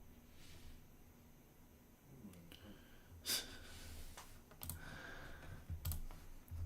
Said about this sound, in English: with my Razer Huntsman, so you get to hear the loudest fucking clicks ever again